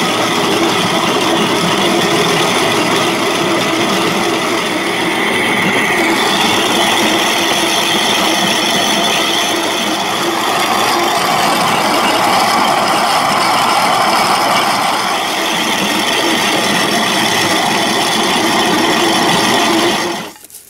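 A hand-cranked or powered grain mill grinds corn in a continuous loud, gritty, rattling churn that runs steadily for about twenty seconds, then cuts off abruptly.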